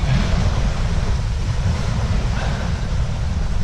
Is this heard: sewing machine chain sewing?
no